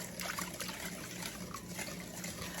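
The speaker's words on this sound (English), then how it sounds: "now we're gonna pour in the evaporated milk" Two cans of evaporated milk are poured into a microwave-safe bowl for a chocolate pie, making a soft, continuous liquid trickle and splash that runs steadily and faintly throughout.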